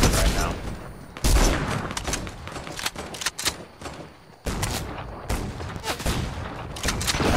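Dense bursts of gunfire in the Fortnite video game crack loudly and close, with rapid volleys and a few brief pauses, and a voice speaks intermittently beneath the shooting.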